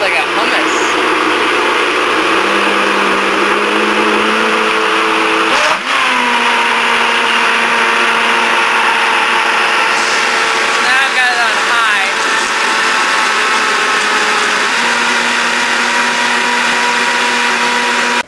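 A Vitamix blender runs loud and steady, blending cauliflower hummus with a continuous motor whine. Its pitch shifts several times as the speed changes, and a voice talks over it.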